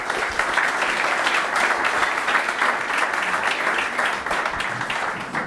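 Audience applause for four speakers at the Mobility & Co 2018 business event, a steady sustained wash of many hands clapping throughout, loud and continuous with no break.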